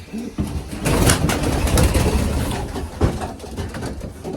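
Racing pigeon hens coo amid a dense rustling, flapping commotion close by, with scattered thumps and a steady noisy background throughout.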